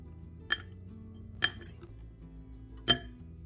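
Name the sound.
stirring bika ambon batter in a bowl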